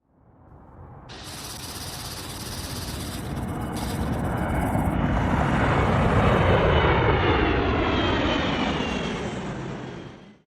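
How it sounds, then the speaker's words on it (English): Jet aircraft engine roar swelling from a faint hiss into a loud, broad rushing pass, then fading away, for a sixth-generation F-47 fighter jet. "US-made F-47 sixth-generation fighter jet on Adams Aviation Channel."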